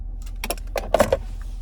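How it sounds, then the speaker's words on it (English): Key fob with remote start for a 2025 Ford F-250 XLT Premium jangling briefly in hand, a few bright metallic clinks close by in a quiet cab, with no speech. "here's the key fob with remote start"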